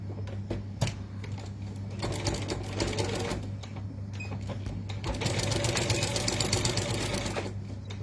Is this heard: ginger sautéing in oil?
no